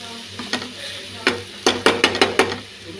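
Ponnaganti greens frying on low heat in a pan, a soft sizzle under a series of quick scraping stirs and clatters, several close together near the end, no talking.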